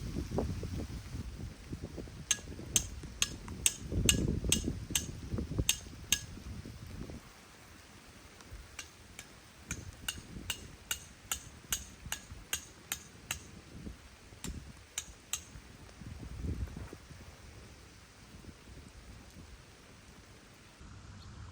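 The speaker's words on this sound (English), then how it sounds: "Drive rebar into the ground at each of the four corners where you plan to secure the tarp poles" Rebar stakes are hammered into the ground at the corners of a camping tarp setup. Sharp metallic strikes come in quick, regular series, with a short break between two runs, over a low rumbling background.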